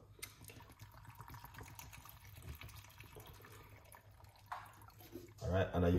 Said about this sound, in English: I use 1 cup of alkaline water inside of it